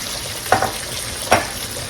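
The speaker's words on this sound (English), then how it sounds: "So I'm going to let that fry up a little bit." Fresh-cut corn scraped from the cob frying in a pan, a soft steady sizzle nearby with two brief louder stirs or spatters, no voices.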